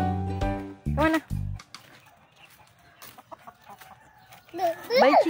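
A chicken clucks in short bursts, loud at the start and again near the end, while a child and an adult talk nearby on either side of the calls.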